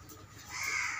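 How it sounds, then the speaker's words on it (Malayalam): A crow caws once over about a second, a single drawn-out harsh call that swells toward the end, heard alone without speech. "എന്നും വീഡിയോസിൽ കാക്ക കരയണ സൗണ്ട് ഉണ്ടാവലുണ്ട്."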